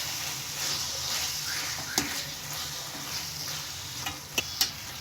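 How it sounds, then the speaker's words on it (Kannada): Black pepper powder and garam masala fry in hot oil for egg fried rice, giving a steady close sizzle with occasional stirring scrapes and clinks. "ನಾ ಇಲ್ಲಿ ಹಾಕೊಂಡು ಇದನ್ನು ಕ್ಲೀನಾಗಿ ಫ್ರೈ ಮಾಡ್ಕೋಬೇಕೀಗ"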